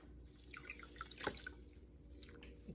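Water dripping from pieces of mohair lifted out of Kool Aid dye, a few soft, close drips and trickles over a quiet background.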